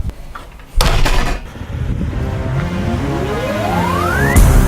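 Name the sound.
car door slammed shut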